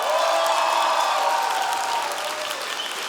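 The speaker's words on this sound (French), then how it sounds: "Un tonnerre d'applaudissements encore une fois, s'il vous plaît." Audience applause at a live concert, a dense, sustained clapping from a crowd, loud and close, slowly tapering toward the end with no talking over it.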